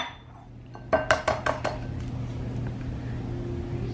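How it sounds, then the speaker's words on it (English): Several quick clinks of dishes and cutlery ring out close by in a kitchen while eggs are separated into bowls for a soufflé, followed by a quieter hum. "we're going to separate the eggs so that you have the egg whites in a bowl like this"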